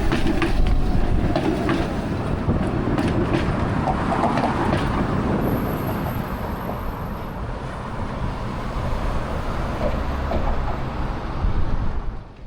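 An old tram runs through the streets of Riga, Latvia, giving a sustained rumbling roll with rattling and a high metallic whine partway through, moderately loud against street traffic and with no talking.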